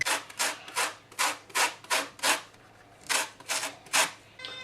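Orange zest grated for a vegan carrot cake, about a dozen crisp rhythmic rasping strokes in two quick runs with a short pause between, close and fairly loud, no voices.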